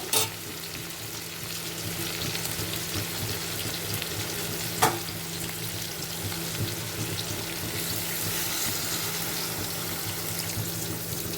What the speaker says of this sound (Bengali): অল্প জল দিয়ে দিলাম আলু আর কুমড়োটা সেদ্ধ হওয়ার জন্য